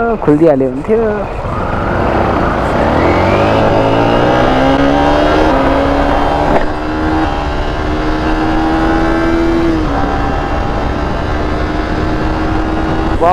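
A race motorcycle speeds along a highway, its engine loud and close throughout, pitch climbing steadily through the gears with brief dips at shifts, plus steady wind rush.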